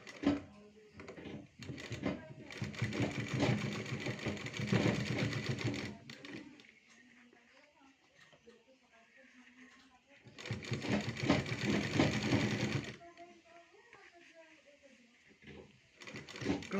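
A sewing machine stitches cloth in two whirring bursts of rapid mechanical clatter, each a few seconds long, and people talk quietly in the pauses between them.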